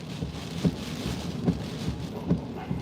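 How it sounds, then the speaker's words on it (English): Wind-driven rain from a hurricane band over Tampa Bay rushes in as a broad, steady roar, with low gusty thumps at regular intervals and no voices. "see a rain band coming over there."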